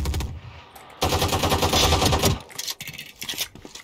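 Rapid automatic gunfire in the shooter game Valorant bursts out loud and close, with a shorter burst at the start and a sustained volley of about a second and a half, followed by scattered clicks and lighter shots.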